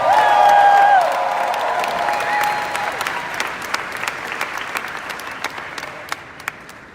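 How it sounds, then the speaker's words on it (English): A live audience at a motivational speaking event breaks into steady, loud applause, a dense wash of clapping that gradually thins toward the end, with a few scattered louder claps standing out. "Give them another round of applause."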